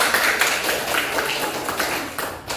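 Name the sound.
applause in a classroom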